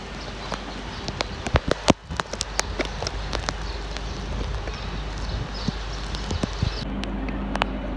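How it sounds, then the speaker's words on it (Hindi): Heavy rain pours down in Talhar with a steady hiss, punctuated by irregular sharp drops striking a hard surface, and gusts of cold wind in the background. "अब ये देख रहे हो बहुत ज़ोर से बारिश हो रही है"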